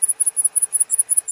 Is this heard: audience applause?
no